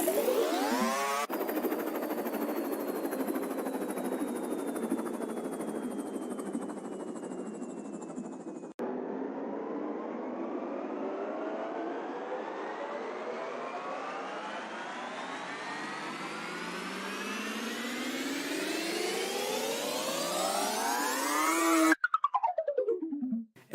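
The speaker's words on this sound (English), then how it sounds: "so like the helicopter sound, the jet sounds" Mario Kart 8 helicopter and jet sounds reworked as risers: long sweeping engine-like whooshes climbing steadily in pitch, one sharp cut partway, and a final rise ending in a quick drop.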